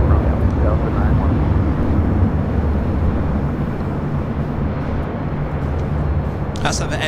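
An airliner at LAX airport produces a broad low roar that fades slowly over several seconds, with constant distant rumble and a brief sharp noise near the end.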